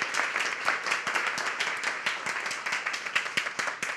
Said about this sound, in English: Please give a big round of applause for Margaret.